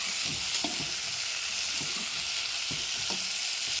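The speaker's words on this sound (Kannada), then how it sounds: "ಈಗ ಟೊಮೆಟೊ ಹಾಕಿ ಹಾಕಿ ತಿರುಗಬೇಕ್ರಿ ಈಗ ಟೊಮೆಟೊ ಒಂದು ಸ್ವಲ್ಪ ಫ್ರೈ" Chopped tomatoes frying in oil in a pan, a constant bright sizzle with soft scraping strokes of a spoon every second or so, close and continuous, no voices.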